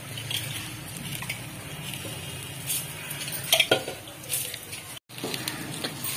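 Soaked rice and vegetables frying in a pressure cooker for paneer pulao give a steady, close sizzle, broken by scraping stirs and light clinks of a spoon against the metal pot.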